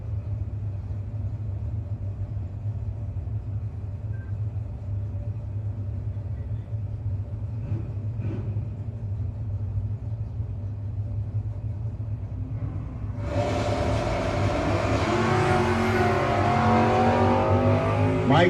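A 2012 Chevrolet Camaro at a drag racing shootout idles low and steady, then launches with a sudden loud engine roar that rises through the gears toward the end.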